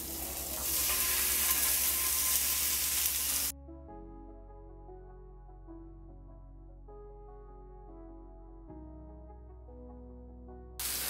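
Meat slid into hot oil sizzles loudly up close for a few seconds, then the frying drops away to a low steady hum before the sizzle briefly returns at the end.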